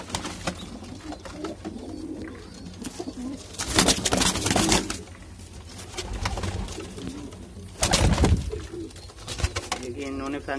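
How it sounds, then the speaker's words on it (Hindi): Young pigeon squabs of the Madrasi breed in a loft, giving soft repeated chirps and coos close by, with louder bursts of flapping or rustling and people talking over them. "ये छोटे छोटे से पट्टे हैं चीची करते हुए।"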